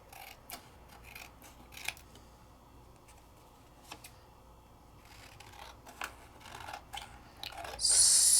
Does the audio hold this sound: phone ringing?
no